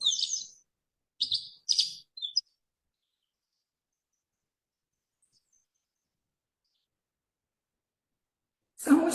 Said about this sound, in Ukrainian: послухайте, як гарно співає жайворонок